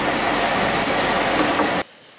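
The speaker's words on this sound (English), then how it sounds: "waiting for the train." Train rumbling steadily at a station, a loud continuous roar that cuts off abruptly near the end, leaving near quiet.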